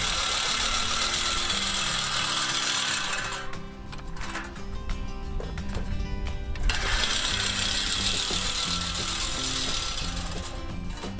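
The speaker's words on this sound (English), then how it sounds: "So what I love about this little reel mower is you can see it just goes right over top of everything here, no damage." Reel mower cutting grass on a front lawn under renovation; continuous close whirring and clattering of spinning blades, briefly easing off mid-clip before resuming at full strength.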